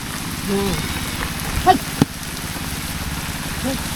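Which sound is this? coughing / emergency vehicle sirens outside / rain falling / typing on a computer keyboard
rain falling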